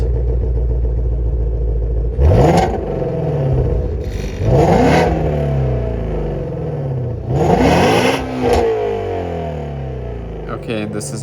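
A Shelby GT350 with stock mufflers and its active exhaust valves closed makes three strong revving pulls, each a sharp rise and fall in pitch over a steady low idle rumble, loud and close.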